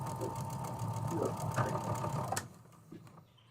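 Sewing machine stitching a fabric seam, a steady mechanical whir running for over two seconds and then stopping, with quieter room sounds after.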